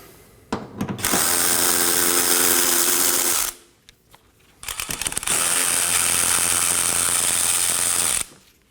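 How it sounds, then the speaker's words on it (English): A power tool or ratchet works 10mm and 8mm bolts on a 2011 Dodge Durango 5.7L V8, with two loud, sustained close whirring runs of about three seconds each, split by a short pause. "Now I'm going to remove one 10mm bolt and one 8mm bolt as well."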